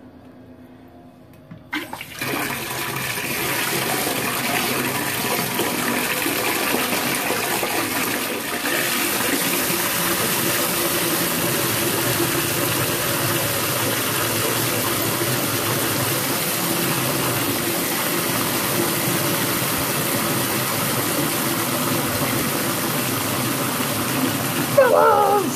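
Cold water runs steadily into a tub for a purple bath bomb demo, a loud, continuous rushing gush that starts abruptly and keeps pouring without a break.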